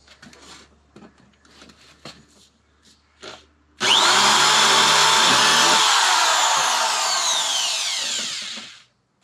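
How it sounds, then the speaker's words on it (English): Power drill boring wiring guide holes through the wall of a 2024 Ford Transit 250 camper van. A loud continuous whine runs about five seconds, slowing and winding down at the end, after a few light knocks and handling sounds. "I'm going to go ahead and drill my guide holes for the wiring all the way through"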